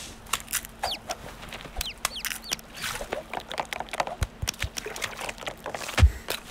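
A Minecraft-style animated chicken gives quick, scattered clucks among clicks, taps and small knocks, with a few rising chirps. There's a faint steady hum underneath and a sudden thud near the end.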